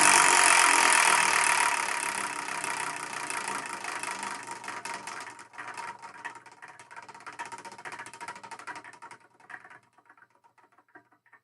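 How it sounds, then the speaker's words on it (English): A prize wheel spins with a rapid ticking patter that starts loud and dense, then slows and thins out over about ten seconds before it stops. "now we're going to spin that one, not only the wheel of manga"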